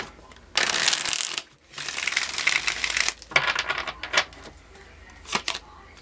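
Tarot cards shuffle close by in long crisp riffles, broken by a brief pause and followed by lighter, choppier shuffling and taps.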